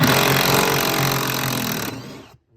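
A power drill runs loudly and steadily while working on the seatbelt assembly of a 2016 Chrysler 300, then winds down and stops near the end of the short burst, with no talking over it.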